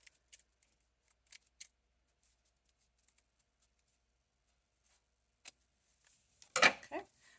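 Scissors trim loose thread and fabric on a handmade snap pouch, a few faint quiet snips spread apart, then a closer, louder cluster of cuts near the end.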